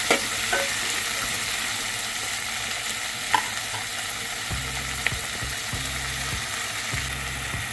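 Lentils and onion fry in a pan for spicy Nagpur-style dal kanda, with a continuous sizzle, a few sharp spoon clinks and later a repeated mechanical ratcheting whirr, close with no talk.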